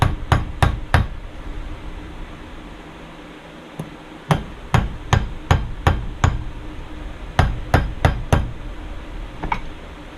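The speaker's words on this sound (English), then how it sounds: "You just tap this around the side." A tool taps around the side of a flange in sharp, ringing knocks, fired off in fast bursts of four to six blows separated by short pauses, close and clear with no voices.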